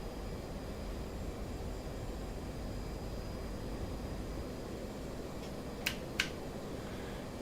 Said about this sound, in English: So now we're going full throttle, afterburner.